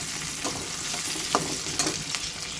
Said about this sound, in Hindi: अब ये प्याज थोड़ी सी मैंने कहा इसको भी हल्का सा फ्राई कर लें